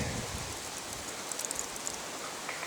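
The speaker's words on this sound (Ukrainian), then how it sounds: "Це мертвий гербарій, він не просто вуха повісив. Чуєте, як шелестить? Його обдуває гаряче повітря." Dry, dead leaves rustle steadily in hot wind, making a continuous soft hiss with faint crisp ticks and flutters, close and fairly quiet, with no voices.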